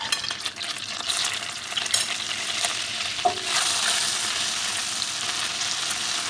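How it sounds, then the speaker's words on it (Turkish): Ground red pepper sizzles and fries in hot oil, a steady close crackling hiss that runs throughout with a brief stirring clink partway through and no voices. "Yağımız kızarınca toz biberimizi ilave ediyoruz."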